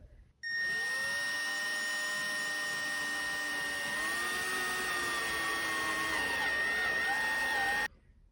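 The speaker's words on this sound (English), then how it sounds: "now we are cutting the holes with a Forstner bit" Forstner bit drilling holes in wood, a loud, steady whining drone with a sustained high pitch that shifts slightly in tone midway, starting and stopping abruptly.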